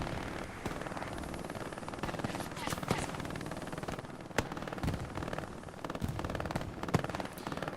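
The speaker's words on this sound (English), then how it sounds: "Hear those MG42s burn." MG42 machine guns in the World War II shooter Hell Let Loose rattle in continuous distant bursts amid a dense battlefield din of scattered sharp shots, the whole mix staying fairly quiet and steady throughout.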